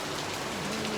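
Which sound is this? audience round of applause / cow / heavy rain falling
heavy rain falling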